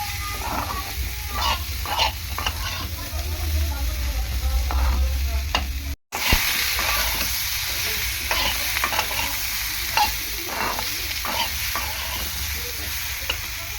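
Vegetables stir-fried in a pan give a steady close sizzle with repeated scraping and stirring strokes, broken once by a short gap, and no one speaks over it.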